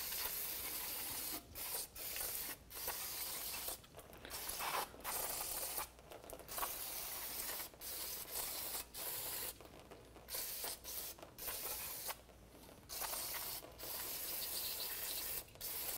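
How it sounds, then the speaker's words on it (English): Short hissing bursts of cleaner spray onto the rear brake assembly of a 1993-1997 Ford Ranger, fired in rapid repeated blasts with brief gaps between them. The spray is close and steady, and no one speaks. "we're going to go ahead and spray this down"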